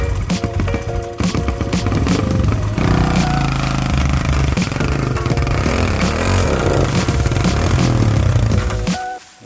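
A motorcycle engine judders and struggles, sputtering loudly and continuously up close with uneven revving before cutting off at the very end.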